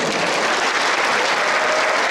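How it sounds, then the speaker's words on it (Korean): Dense, steady applause from a crowd at the opening ceremony of the 2019 Gyeonggi-do tennis tournament, loud and close, filling the whole moment without a break. "그리고 지금 박수 하셨는데요"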